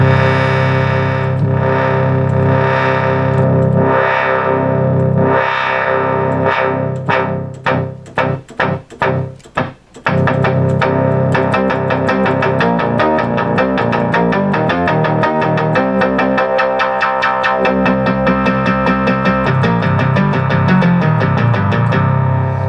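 Korg 770 vintage synthesizer notes sweep and pulse, then a run of short, punchy thumps repeats rapidly before a denser, distorted synth texture takes over.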